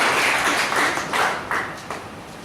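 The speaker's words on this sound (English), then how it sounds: "Great round of applause for" Applause from a Toastmasters club audience at an evening evaluation session, a short burst of clapping that starts full and gradually fades over a couple of seconds, with no voices.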